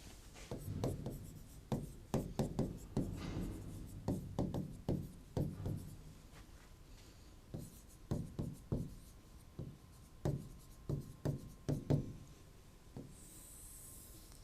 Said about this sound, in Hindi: मैं लिख देता हूँ, आप याद रखना इसको।